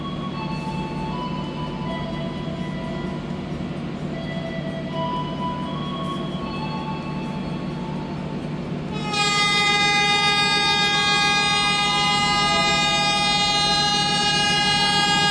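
Fajar Utama Solo economy train pulling out of Purwokerto station on the Jakarta–Jogja line: a steady low rumble of rolling stock, joined partway through by a loud, sustained high-pitched tone, likely a horn or brake squeal, that continues to the end.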